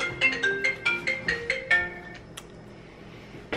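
A melodic phone ringtone plays as an incoming call arrives, a run of bright repeating electronic notes for about two seconds, then stops, leaving a quiet room with a faint click at the end.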